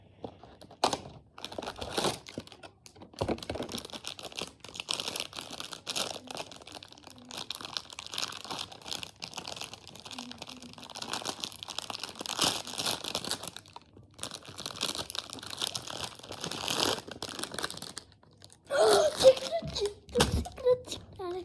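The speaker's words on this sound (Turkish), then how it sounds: "İlk önce Labubu'yu açalım." Plastic packaging around a Labubu toy crinkles and crunches as it is torn open, with bursts of rustling and crackling spread throughout, someone talking over much of it and a brief giggle near the end.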